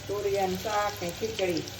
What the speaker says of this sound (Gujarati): આ તુરિયાનું શાકનો વઘાર મારી દીધો છે